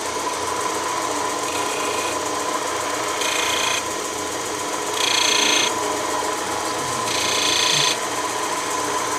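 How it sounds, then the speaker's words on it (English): A wood lathe turns a Christmas tree ornament at slow speed with a steady mechanical hum. A brighter hiss swells in three separate bursts over the drone. "transfer it all the way around by turning the lathe on, slowing it down enough to where I can see those"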